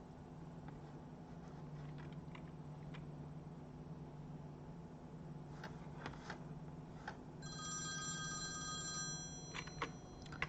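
A telephone rings in the horror video game Nighttime Visitor, with repeated ring bursts over a steady low hum and ambient drone, growing louder toward the end; no talking.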